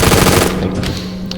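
Rapid automatic gunfire rattles loudly against a fortress shield in a Roblox Stargate game, a dense burst of shots lasting about a second with no pauses.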